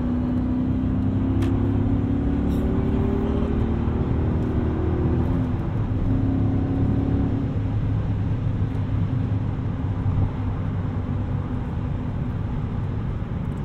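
A 2001 BMW E39 M5 pulling hard under acceleration, its engine a deep, steady drone with a rising tone in the first half, heard from inside the cabin with constant road and wind rumble.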